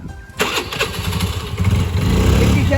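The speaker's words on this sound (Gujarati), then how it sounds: "ચાલુ થઈ ગયું ને વાહ નવું જ છે એક્ટિવા" Honda Activa scooter engine starting: a quick electric crank catches into a close, loud idle that steadies into an even putter, with no talk over it.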